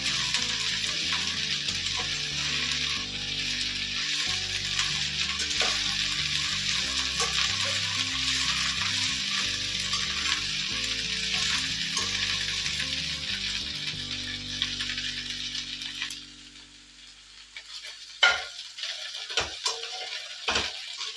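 Okra frying in a pan, a dense, close crackling sizzle that holds steady for most of the stretch, then drops away into quieter gaps with a few sharp clinks of a utensil against the pan near the end.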